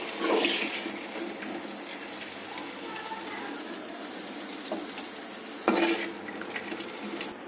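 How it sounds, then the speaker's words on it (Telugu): Mint leaves fry in oil in a pan for a mint chutney, a soft sizzle under clinks and scrapes of a utensil against the pot, with a couple of sharper knocks. "పుదీనా బాగా ఫ్రై చేసుకోవాలి."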